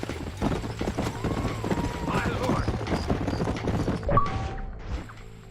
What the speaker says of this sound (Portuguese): vou pegar meu cavalo aqui